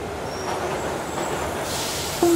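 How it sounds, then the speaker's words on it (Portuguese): A subway train pulls into a station with a steady rumbling roar, faint high squeals of wheels or brakes, and a brighter hiss building near the end. "Este vento quente é do metro a chegar. Já o ouves?"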